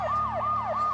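A wailing emergency siren of a police car sweeps up and down in quick repeating cycles, loud and continuous, with a low engine drone underneath.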